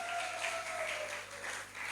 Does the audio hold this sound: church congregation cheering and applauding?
yes